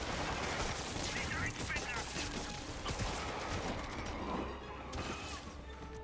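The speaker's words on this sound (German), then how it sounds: "Wo der hell kamen die ganzen Schüsse her?" Dense gunfire from Marvel's Spider-Man game combat, rapid overlapping shots and bursts mixed with clattering mechanical noise and crashes, loud and continuous throughout.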